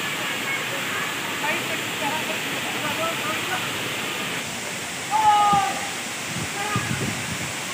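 Dambul waterfall at Pomdhi in Odisha, a steady broadband rush of falling water that holds at an even level throughout, with faint voices in the background.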